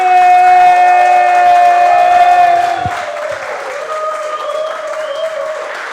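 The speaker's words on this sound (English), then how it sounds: "Clap your hands now." A comedy club audience applauds and cheers at an improv venue. Loud, dense clapping mixes with sustained tones, then drops to a softer level partway through.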